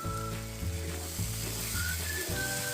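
Mutton curry sizzles loudly in a pan while being stirred, a dense, close frying hiss with soft scraping strokes repeating every half second or so.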